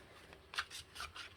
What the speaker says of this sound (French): on va mettre dessus une carte de l'oracle de l'arbre de vie